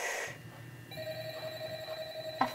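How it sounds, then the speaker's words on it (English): A telephone rings in a horror video game, sounding as a clear steady electronic ring over a quiet background, followed by a brief sharp sound at the end. "A phone is calling."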